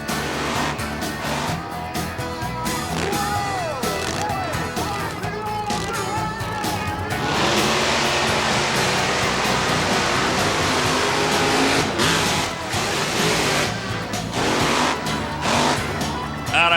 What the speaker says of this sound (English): The Gravedigger, the monster truck to beat, Dennis Anderson.